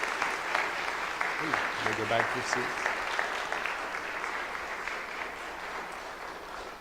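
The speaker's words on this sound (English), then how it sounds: "Do they deserve an applause or what?" Church congregation applauding the children who answered questions during a Sunday service, a steady broadband patter of clapping lasting throughout while a voice speaks over it.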